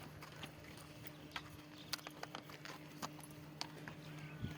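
Unshod horses' hooves clip-clopping on stony ground, irregular clops and knocks at moderate distance over a low steady hum, with no one speaking.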